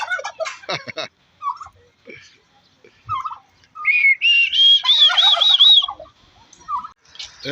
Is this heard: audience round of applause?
no